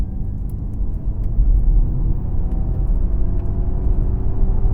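Artificial propulsion sound from a Ford Mustang Mach-E electric SUV in Untamed drive mode: a steady, low, droning synthetic hum with a faint higher whine riding above it, continuous and moderately loud from inside the cabin.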